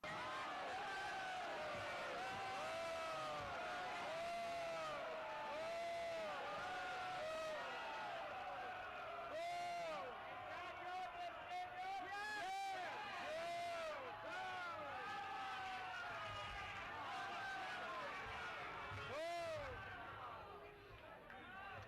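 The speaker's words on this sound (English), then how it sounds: "The crowd booed and jeered and shouted at Sylvia way before she even began talking." A crowd at a 1973 gay pride rally booing, jeering and shouting, a loud, continuous mass of overlapping voices and yells with scattered louder outbursts throughout.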